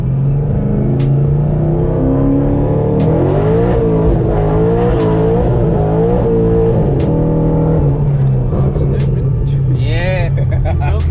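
A supercharged Camaro with a Magnuson supercharger running on E85, and a slipping clutch, accelerates hard. Its loud engine roar climbs and falls in pitch through repeated pulls, heard close from inside the car, with voices over it.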